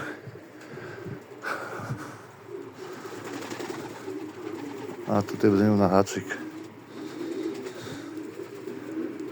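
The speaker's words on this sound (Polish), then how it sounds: "samczyki, kurde, słychać je tutaj" Male pigeons coo in a pigeon loft, a soft recurring murmur with one louder, closer burst of cooing midway, while someone talks nearby throughout.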